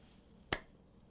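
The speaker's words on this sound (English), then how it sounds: "Claps can be used as a standalone 2 and 4 backbeat or combined with a real snare." A single sharp synth drum clap, a crisp electronic backbeat hit, sounds once alone with a quick snappy attack and fast decay against near silence.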